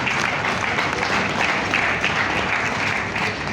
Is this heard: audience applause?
yes